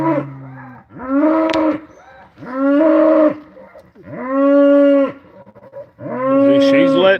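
A cow in a hospital pen moos four times in long, loud, close calls separated by short pauses, with no talking.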